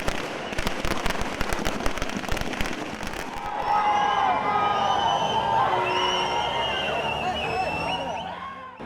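Firecrackers burst in rapid crackling strings at a fans' celebration outside a cinema for the release of an Ajith film, then give way to crowd noise and whistling, loud and close.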